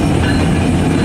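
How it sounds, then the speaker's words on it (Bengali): Padma Express from Rajshahi pulls into Ullapara station, heard close as a loud, steady rumble of rolling wheels and carriages that fills the short moment. "এই যে চলে আসছে রাজশাহী থেকে পদ্মা এক্সপ্রেস ট্রেনটি চলে আসলো উল্লাপাড়া স্টেশন।"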